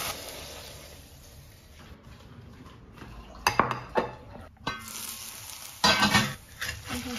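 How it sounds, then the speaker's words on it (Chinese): Lettuce and minced garlic stir-fry in a wok, a quiet sizzle broken by loud, irregular bursts of a metal spatula scraping and clanking against the pan. "再炒一个我儿子最爱吃的生菜，放蒜末，放生菜，放点蚝油，放点生抽"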